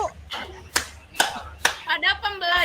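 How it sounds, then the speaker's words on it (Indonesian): A classroom claps in a few sharp, spaced bursts that run into a quicker patter of hands, with a voice speaking among the claps. "Nah, tepuk tangan buat Bisa."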